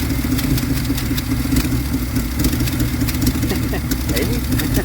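A 1973 Dodge D200 pickup with a 360 V8 and 727 automatic idles steadily and close by, a continuous low rumble throughout with faint background noise.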